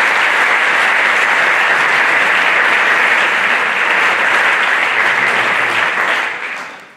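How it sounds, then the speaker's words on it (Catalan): Loud, sustained applause from an audience at a prize-giving ceremony, a thick continuous wash of clapping that holds steady before fading out at the very end. "Doncs un aplaudiment."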